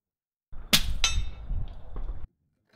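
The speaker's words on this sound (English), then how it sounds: "Sounds kind of like a 9mm hitting that steel." A single subsonic rifle round striking a steel target downrange, a sharp distant clang followed by a second faint ring and a lingering metallic tail, alone without talk.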